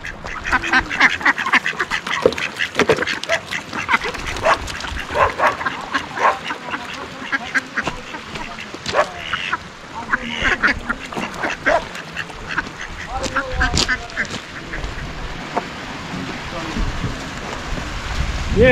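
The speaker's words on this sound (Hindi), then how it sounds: "बत्तखें भी घूम रही हैं यहाँ पे" Ducks wandering at a trout fish farm near Khunjerab quack repeatedly and fairly close, with natural running water and people talking in the background.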